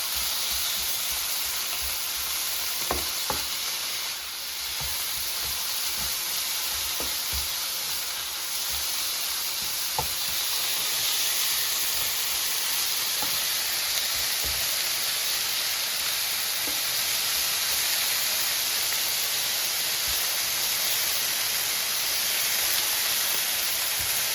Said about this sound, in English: So now you can hear it sizzling, so it's fully heated.